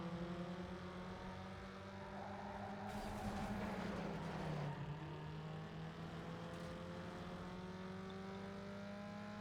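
A Toyota Supra passing: a steady engine drone with a rising and falling pitch as the car sweeps by mid-distance, swelling briefly to a noisy peak before settling back to a constant hum.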